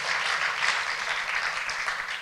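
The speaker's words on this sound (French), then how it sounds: "On peut applaudir Jonathan, merci" Applause in a church for a volunteer who prepared the apéro, a steady, dense patter of many hands clapping close by and continuing evenly throughout.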